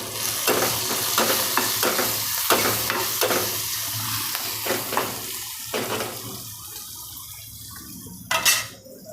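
Green chilies and raw mango pieces with turmeric cook over low heat in a pan for a Gujarati sambharo, a steady sizzle broken by repeated scraping stir strokes, close and loud, with no voices.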